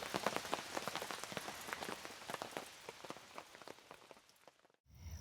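Rain pattering steadily on a camping tent, dense tapping drops fairly close, easing toward the end before a brief low rustle.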